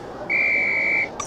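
A single sustained, high-pitched whistle blast lasting under a second, clear and steady, followed by a brief faint electronic blip, from the PS1 game Harry Potter and the Sorcerer's Stone.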